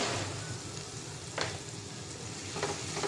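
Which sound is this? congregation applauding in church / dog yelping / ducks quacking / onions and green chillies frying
onions and green chillies frying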